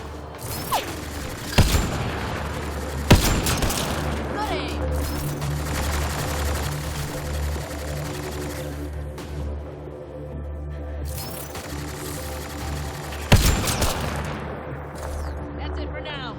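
Sci-fi weapons fire in the video game Mass Effect Andromeda: loud, sustained bursts of shooting with sharp cracks and mechanical clatter in a firefight, while someone talks over it.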